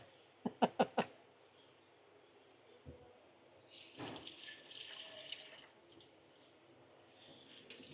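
A rhinoceros beetle grub is rinsed under running tap water: a few sharp knocks come first, then the flow starts as a steady, splashing hiss that swells and wavers through the rest.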